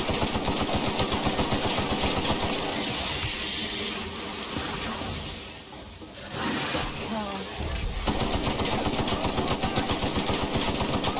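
Weapon fire in the video game The Outer Worlds: rapid, continuous automatic bursts that break off briefly in the middle and then resume with the same steady, loud rhythm.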